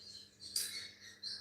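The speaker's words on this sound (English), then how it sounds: "I hear a lot of birds chirping" Faint, scattered high-pitched bird chirps in the distance, a few brief tweets rising over quiet background hiss with no talking.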